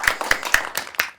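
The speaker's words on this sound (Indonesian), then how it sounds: "Tepuk tangan dong." An audience clapping at a campaign event, sparse and uneven, with about five distinct hand claps in a short burst and little other sound around them.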